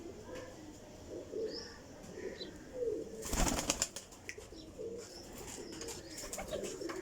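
Indian Lakha Teddy breeder pigeons give soft, repeated cooing close by, with a sudden burst of flapping wings midway and faint chirps around it.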